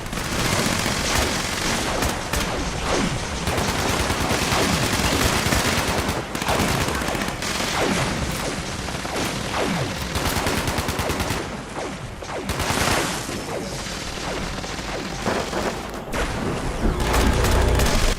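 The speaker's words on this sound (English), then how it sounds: "That's a grenade right next to me." Grenades going off close by in the Fallout 76 video game, a dense, continuous barrage of loud blasts and crackling gunfire that hardly lets up, with heavy booms layered throughout.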